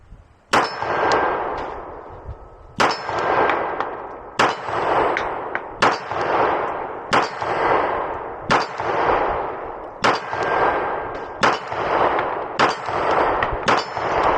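A Beretta pistol fires at a steel target: about ten sharp shots, each followed by a ringing metallic clang. They come at a steady pace roughly every second and a half, loud and close.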